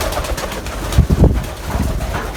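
Pigeons coo in a loft at close range, soft throaty calls repeating over a low rustling bed, with a couple of louder coos near the middle.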